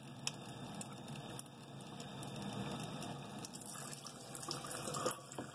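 Water runs steadily from a LeveLuk K8 water filter machine tap close by, a continuous splashing stream with faint drips and clinks.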